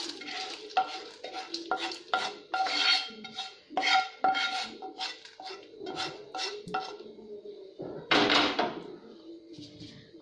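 Roasted peanuts are scraped and spooned from a pan into a bowl, giving a run of close, sharp metallic clinks and scrapes of utensil against cookware, with a louder clatter near the end.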